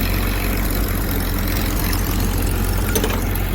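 Car engine idling on a newly fitted Carter WO carburetor, running rough; a steady, loud low rumble continues without pause, with a faint click near the end and no talking.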